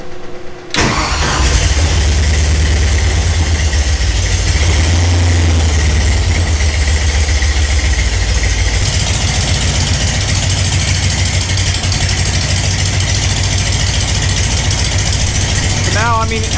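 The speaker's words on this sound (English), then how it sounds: "This is going to hit the starter, so as soon as I hit this, it'll fire right up." Ford Ranchero swapped with a Mustang 5.0 engine cranks briefly, then fires and settles into a loud, steady rumbling idle close by, with a voice speaking over it.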